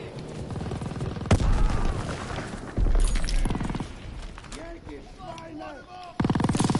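Grenade blasts and gunfire in the Call of Duty WWII video game: loud, sharp bursts and booms scattered across a busy battle soundscape, with a voice shouting in between.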